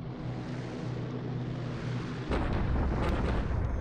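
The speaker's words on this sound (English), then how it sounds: "Another bomb hit." A bomb hit explosion in the naval war game War in the Pacific bursts in partway through over a steady low rumble, then a dense, loud blast with crackling debris carries on to the end.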